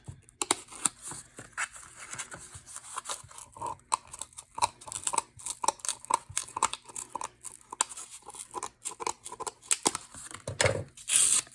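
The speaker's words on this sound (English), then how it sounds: "pulling up the backing a little bit of it at a time instead of trying to cut fully up the side worked a bit better" Adhesive backing is pulled bit by bit off card paper for a handmade plaid Christmas card, giving close, irregular crackling and tearing rasps in short bursts with small pauses.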